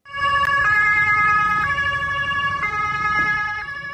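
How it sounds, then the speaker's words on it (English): Ambulance siren wails in a steady two-tone alternation through Bangkok streets, loud and close over a low rumble of road traffic. "An ambulance races through the streets of Bangkok"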